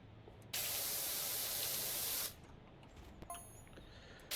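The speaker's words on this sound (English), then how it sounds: "Going to spray the shit off the toilet" A steady pressure-washer spray hisses at close range as it cleans a toilet in Powerwash Simulator, one sustained burst of almost two seconds followed by quieter background sound.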